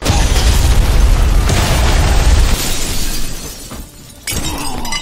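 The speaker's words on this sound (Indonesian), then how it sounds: "hempasan ledakan yang luar biasa" A loud, crashing blast in an action film scene, strong enough to knock a balcony off a building, with shattering debris rumbling heavily for a few seconds before dropping off, then a brief sharp burst.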